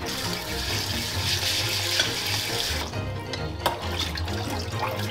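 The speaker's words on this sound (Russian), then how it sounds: "Его обязательно следует промыть под проточной прохладной водой от 5 до 7 раз, пока вода не станет прозрачной" Cool tap water runs steadily over round-grain rice being rinsed, a continuous close hiss and splash that dips briefly, with a single sharp knock near the end.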